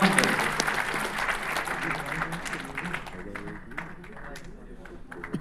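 Applause from an audience at a ceremony honouring traders, steady dense clapping that is loud at first and gradually thins and fades, with crowd murmur and voices underneath.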